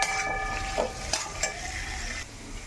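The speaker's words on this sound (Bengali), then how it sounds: "স্বাদ মতো লবণ দিয়ে ভালো করে ভাজা ভাজা করে নেবো" Boiled chickpeas being stir-fried with salt in a pan, a steady sizzle with several sharp scrapes and clinks of the spoon against the metal, close and loud, with no talking.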